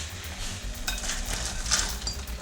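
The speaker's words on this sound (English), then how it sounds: "I'm gonna put in the onions now." Onions dropped into a hot pan bring a bright burst of sizzling, mixed with stirring and light scraping against the pan, close and moderately loud.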